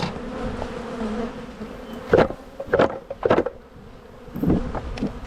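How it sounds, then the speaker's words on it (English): Honey bees shaken from a top hive box make a dense, continuous buzzing drone, with several louder thumps and swells as the box is knocked. "I'll shake the last of these bees out of this other top box."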